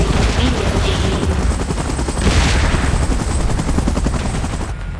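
A helicopter in the PUBG Mobile Titan Strikes event roars loud and close with a thick rotor chop, mixed with bursts of in-game gunfire throughout.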